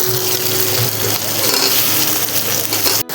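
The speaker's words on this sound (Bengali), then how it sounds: "এখন আমি ভেজে রাখা আলুগুলো দিয়ে দেবো।" Fried potatoes tipped into a pan of dry fish curry set the oil spitting, giving a steady, loud broadband sizzle with scraping and clinking, cut off abruptly near the end.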